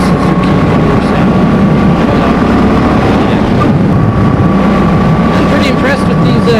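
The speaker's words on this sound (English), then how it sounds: "Rumble's not quite the right word for a Suzuki motor sound." A Suzuki M50 motorcycle engine drones steadily while riding up a canyon, under a constant loud rush of wind and road noise. The low rumble holds without a break throughout.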